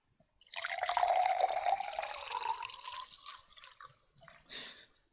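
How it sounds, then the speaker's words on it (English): Running water from a tap pours steadily into a sink with a dripping, splashing texture, fairly close, easing off toward the end before a brief final splash. "I will give you a bit of a sound of water flowing."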